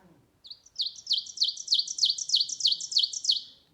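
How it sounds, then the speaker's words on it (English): An ovenbird sings a loud, rising series of repeated two-note phrases, about eight in quick rhythm, clear against a quiet background. "And this is an oven bird."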